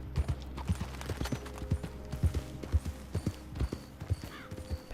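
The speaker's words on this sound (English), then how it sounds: "Because I'm on a horse that's noisy." Steady, rhythmic clip-clop of horse hooves in Red Dead Redemption 2, close and continuous, over a low background hum.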